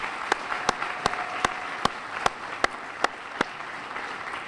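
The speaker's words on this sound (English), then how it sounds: "So please give a round of applause for the LMC Media staff" A gala audience at the LMC Media 40th anniversary applauds the staff, with a steady crowd wash of clapping and sharp, regularly spaced claps close to the mic standing out on top.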